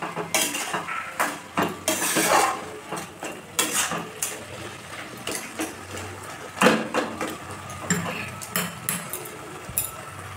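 Taro leaves with shrimp being stirred in a pan, the utensil scraping and knocking against the metal in irregular bursts of clatter, close and fairly loud, with no talk.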